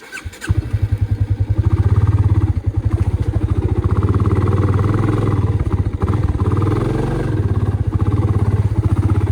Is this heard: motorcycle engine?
yes